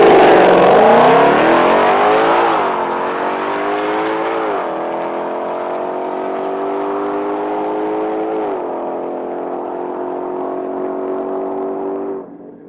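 A 2020 Shelby GT500 Mustang on the dyno, loud and close, revving hard through several rising gear pulls with brief dips between shifts, then cutting off abruptly at the end.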